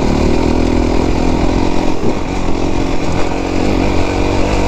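A 450 dirt bike engine roars loud and close on a trail, a harsh sustained drone with small dips and surges in throttle throughout.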